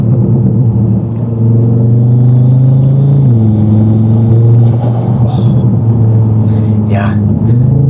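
A 540 hp Audi TT RS with an open intake and five-cylinder engine roars loudly and steadily from inside the cabin while cruising, with a brief shift in pitch and someone talking over it.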